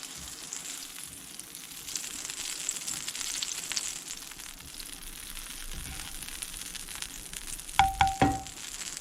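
Fat melts in a small dish, giving a soft continuous sizzle and light crackle, with a few clinks and scrapes close by toward the end.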